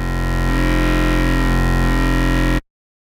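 Dubstep synth bass built in Native Instruments Massive, its wavetable position swept by an LFO, giving a dense, buzzing, growling drone that throbs in rhythmic waves for about two and a half seconds, then stops abruptly.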